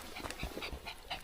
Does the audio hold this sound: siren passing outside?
no